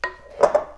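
Brussels sprouts drizzled with balsamic glaze are tossed in a bowl, giving a brief, close clatter with a couple of quick knocks and clinks in under a second.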